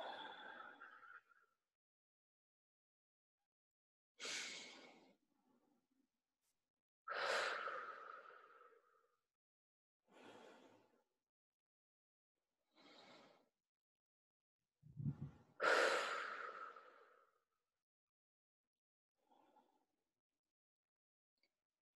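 Slow, deep breaths in a guided relaxation exercise, each inhale and exhale separated by long quiet pauses, soft and close, with no talking over them.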